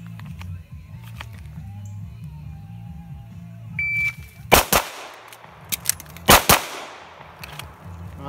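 Pistol shots ring out at an outdoor shooting practice: two loud, sharp bursts of closely spaced rounds with a few lighter clicks between them, heard over a steady low background hum.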